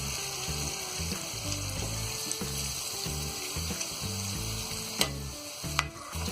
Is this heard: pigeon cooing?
no